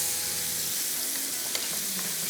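Masala sizzling and frying in a buttered grill pan for a grilled tikka chicken cheese sandwich, a steady loud hiss with faint scraping, no voices.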